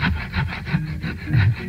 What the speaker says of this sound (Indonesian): Ah, ini gergaji.